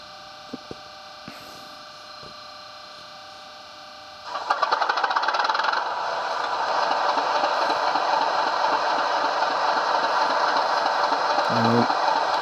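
A model train's onboard sound system, a Richard Croft Road and Rails double iPhone speaker running Southwest Digital sound, switches on partway through, giving a steady mechanical engine hum that holds loud and constant after a quiet start.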